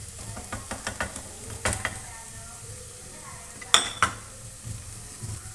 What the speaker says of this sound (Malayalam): ഇനി പൊടികളുടെ എല്ലാം ഒന്ന് പച്ചമണം മാറുന്നത് വരെ നന്നായി മിക്സ് ചെയ്ത് കൊടുക്കുക